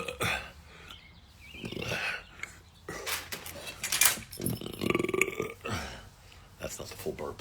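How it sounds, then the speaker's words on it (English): A person burps loudly and close by, with a short gurgling croak among stretches of talk and laughter. "That's not the full burp."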